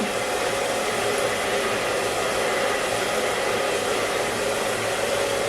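A hair dryer blowing on bleached hair, a loud, steady whirring hiss that holds constant from start to finish with no voices.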